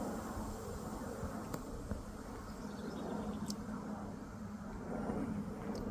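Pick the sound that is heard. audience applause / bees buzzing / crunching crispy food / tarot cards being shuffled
bees buzzing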